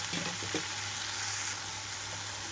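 Broad beans and toor dal frying uncovered in a pan, a steady soft sizzle with faint stirring scrapes early on, close and even throughout.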